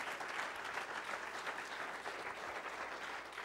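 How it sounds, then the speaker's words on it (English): A church congregation claps hands together in sustained, steady applause, a faint, dense patter of many hands with no break. "Clap your hands to the Lord."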